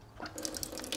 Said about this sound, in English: The water still runs, actually.